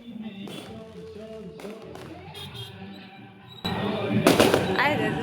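Sharp firecracker bursts crackle at Kali Puja immersion festivities, a few scattered pops followed by a louder burst of crackling near the end, heard at a moderate distance amid crowd noise and voices.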